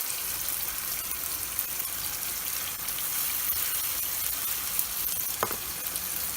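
Tilapia fish frying in oil in a large frying pan, a loud, continuous crackling sizzle that holds steady throughout with no voices over it.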